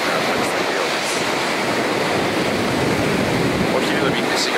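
Strong ocean waves breaking on a Bali beach in the morning, a steady, loud, full roar of surf with no pauses and no talking.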